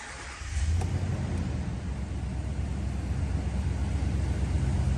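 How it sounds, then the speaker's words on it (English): A 2021 Ram 1500 Classic Warlock pickup engine cranks and catches about half a second in, then settles into a steady, loud, close idle rumble with no talking. "let's go ahead and start this vehicle up for y'all"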